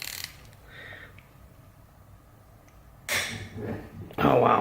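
A ratchet loosens the connecting rod bolts on cylinder 1 of a Miata engine during a teardown, giving two short bursts of close, clicking ratcheting after a quiet stretch.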